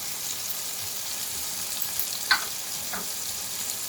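Ground spices (garam masala, coriander powder, turmeric and red chili) sizzling in a pan with softened vegetables, a steady bright frying hiss with a couple of brief stirring scrapes.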